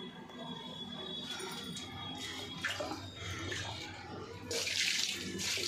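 Warm shampoo water splashes and pours while a cat is bathed at home, a soft continuous watery wash with small clinks and a louder gush near the end, faint voices in the background.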